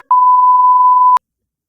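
A single steady censor bleep, a pure electronic tone held for about a second over a swear word, loud and alone with silence after it.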